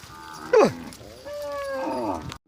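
Cattle being herded on a rural grazing route moo loudly and near, one long bellowing call followed by lower, drawn-out moos with a sweeping pitch.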